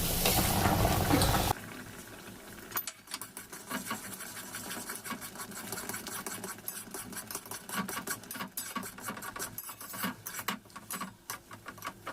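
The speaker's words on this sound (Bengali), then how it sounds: "দেখুন এখন খুব ভালোভাবে ফুটে উঠবে।" Water for upma comes to a boil in a pot, giving a busy, continuous bubbling patter with irregular pops, close and moderately loud after a brief burst of hiss at the start.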